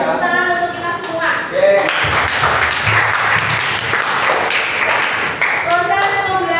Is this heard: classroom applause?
yes